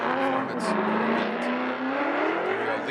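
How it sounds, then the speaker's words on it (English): A drift car with a Borla exhaust, running at a Formula Drift championship event, howls loudly as its engine revs climb steadily, with a commentator's voice heard over the engine noise. "Borla exhaust."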